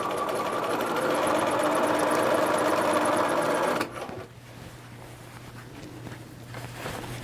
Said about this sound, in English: now we're going to sew the second one with a long basting stitch